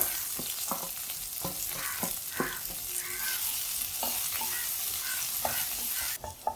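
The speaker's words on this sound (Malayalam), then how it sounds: "ഉള്ളി ഇഞ്ചിയെല്ലാം നന്നായിട്ട് വഴന്ന് വന്നിട്ടുണ്ട്" Onion and ginger sizzle steadily in a hot pan alongside chopped green chilies, with intermittent scraping stirs of a spatula over the continuous frying hiss, close by and without speech.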